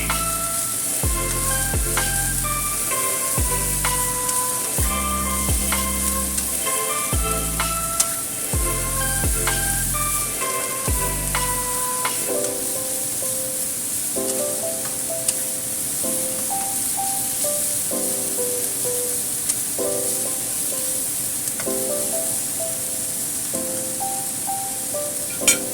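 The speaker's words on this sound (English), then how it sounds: "Make sure the bean sprouts are stir fried." Bean sprouts stir-fried in a hot pan with chopsticks and a turner, giving a continuous loud sizzle with repeated scraping and clinking strokes throughout, while background music plays.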